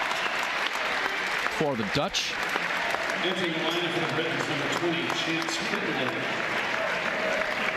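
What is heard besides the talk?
applause for the Dutch basketball team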